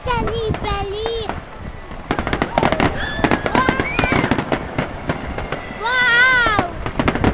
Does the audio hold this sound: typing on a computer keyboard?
no